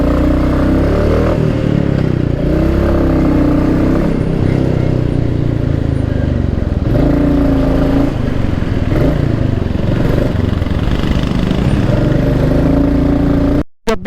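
Light traffic crawls along a narrow mountain road to Badrinath, with close, loud engine rumble, clattering, and a few short tonal blasts from passing vehicles over a continuous drone.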